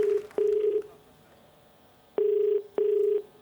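Telephone ringback tone sounding in short, steady buzzing bursts, one pair then after a pause another pair, clear and close on an outgoing call.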